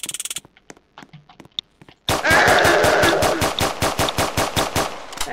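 Rapid automatic gunfire in the Roblox game Prison Life bursts in loudly after a stretch of quiet, sparse sounds, then continues as a steady run of evenly spaced shots for several seconds.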